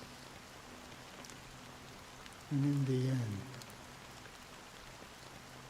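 Steady rain falls in a video game scene, a soft, even hiss that runs throughout beneath a briefly speaking voice.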